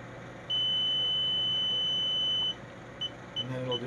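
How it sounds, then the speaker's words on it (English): A MAGWheel Bluetooth controller gives a high, steady electronic beep for about two seconds while pairing, then a few short beeps follow in a quiet room. "It'll beep at you, you let go."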